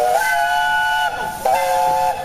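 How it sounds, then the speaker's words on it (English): A loud chime steam whistle sounds in a station, holding a steady multi-tone blast with a brief dip in the middle before resuming, with a hissing edge and no talking. "startled by a loud chime whistle echoing through the station"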